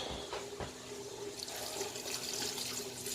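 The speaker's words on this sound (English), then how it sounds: "And you start adding water." Water runs steadily from a tap into a cooking pot, splashing and filling it with a continuous gushing hiss.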